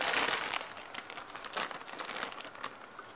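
Close plastic crinkling and rustling, a burst of crackly handling at the start followed by intermittent crinkles, alone without any talk.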